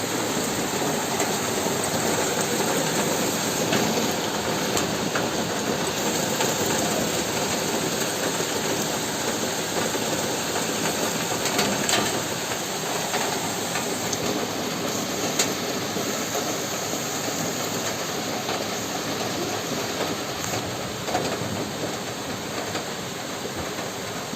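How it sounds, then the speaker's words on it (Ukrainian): Heavy rain mixed with hail pounding a house roof during a storm, a dense continuous hiss and clatter at steady loudness with no voices over it. "Це град іще й б'є по криші."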